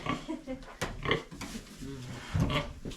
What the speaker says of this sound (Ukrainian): Свинки вже на місці, вже пробують гризти.